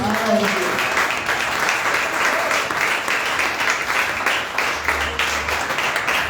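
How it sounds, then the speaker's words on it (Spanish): A church congregation at a Spanish-language service applauds with dense, sustained clapping that fills the whole stretch, with a few voices mixed in. "aplaudan"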